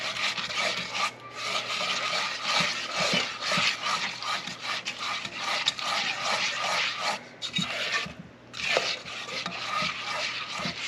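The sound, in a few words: mixing blackberry puree with sugar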